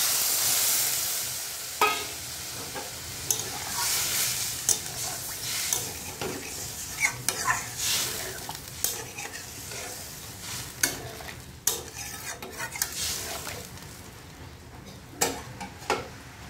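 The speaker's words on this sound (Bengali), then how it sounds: "মশলাটা আমার কষানো হয়ে গেছে, এবার জল দিয়ে দেবো। এভাবে জলটা দিয়ে দেবো।" Spiced masala base for a potato, pointed gourd and egg curry sizzles and crackles in a pan as water goes in, with steady frying hiss and repeated sharp scrapes and taps of a spoon stirring against the pot, close and alone.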